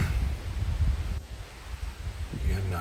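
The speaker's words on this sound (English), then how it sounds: "the wind is blowing right in my face because that front is coming through, and it's blowing hard" Strong gusty wind from an approaching front buffets a hunting blind beside food plots, a low rumbling roar pressing on the microphone that surges and eases in uneven waves.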